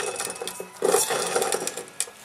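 Worn bearing on a snowblower making a dry, scraping grind that turns rough and louder partway through, with uneven rubbing pulses, close up and without talk.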